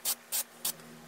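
Three short bursts of Drybar Triple Sec texturizing hair spray, each a crisp hiss lasting about a tenth of a second and evenly spaced. The bursts are close and clear over a faint steady hum, with no talking.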